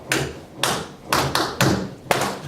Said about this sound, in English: In our schools, in Nigeria, where I come from, this is how we clap.